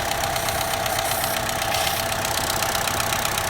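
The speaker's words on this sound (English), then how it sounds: "you can hear the air being sucked in through that valve right there" A running Chevy Cruze engine idles with a bad PCV valve, a steady airy hiss of air being drawn in under a constant close mechanical hum.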